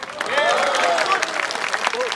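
Audience applause at the Murthal Mahotsav 2024 cultural festival, a dense brief wash of clapping with crowd noise and voices mixed in, steady and fairly loud throughout.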